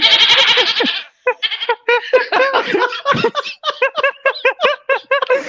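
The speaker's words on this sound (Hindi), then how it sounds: "ये बकरा किधर से आ गया यार?" Goat bleating loudly and close during a live stream, a long wavering bleat followed by a rapid series of short stuttering bleats.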